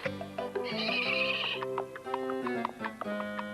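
A horse gives a loud, close whinny that rises and trembles, followed by snorts and shuffling amid background music in a 1993 animated cartoon.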